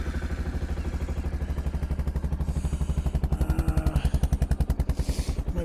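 Four-wheeler ATV engine running nearby outdoors in Alaska, a steady low chugging throb with a fast even pulse that grows slightly louder and rougher toward the end, with no talking.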